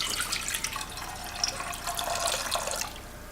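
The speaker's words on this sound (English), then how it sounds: "the key to starting the perfect pot of rice is getting our water poured into the pot" Water pours steadily into a cooking pot for wild rice, a continuous splashing stream close by that thins out at the end, with no talking.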